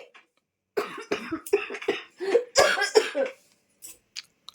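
A woman coughing repeatedly from dust, a close, loud series of rough bursts in irregular clusters with short pauses, followed by a couple of fainter coughs.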